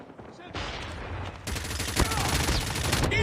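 Rapid automatic gunfire from the mobile shooter game COD Mobile, dense bursts of shots running almost continuously and growing louder after a short opening, with a faint voice mixed underneath.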